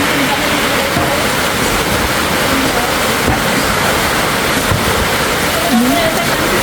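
Typhoon rainwater spills past the edge of a small roofing sheet in Mindoro, a loud, constant rushing and splashing roar that stays even from start to finish.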